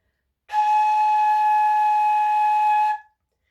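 A single steady, breathy tone from blowing across a flute head joint, held for about two and a half seconds and then stopping.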